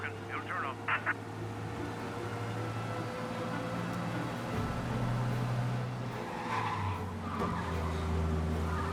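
A car is driven fast in the video game Mafia, its engine droning steadily with occasional tire skids, while people talk over it throughout.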